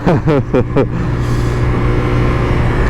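A motorcycle engine gives three quick rising revs close by, then settles into a steady rumbling idle.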